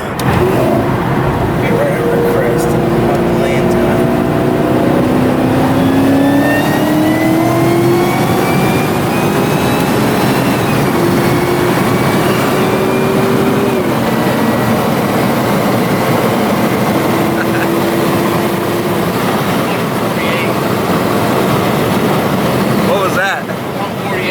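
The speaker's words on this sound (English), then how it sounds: "we're gonna probably take the Lexus out drifting" A Lexus car engine revs and climbs through the gears while drifting, loud and continuous with rising and falling pitch sweeps, heard throughout over a steady roar.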